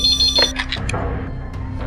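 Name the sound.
telephone ringing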